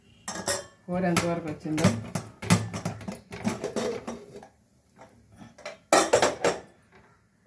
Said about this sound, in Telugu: కుక్కర్ మూత చూసి చూద్దామండి